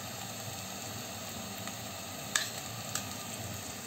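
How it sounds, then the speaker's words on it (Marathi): Chopped tomato and onion fry in a pan for a paneer veg biryani, giving a steady close sizzle with a couple of sharp clinks from stirring and no talking. "कांद्यामध्येच बारीक टोमॅटो सुद्धा आपण परतून घ्यायचा आहे"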